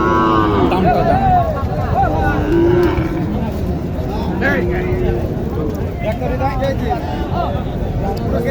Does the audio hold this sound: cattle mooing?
yes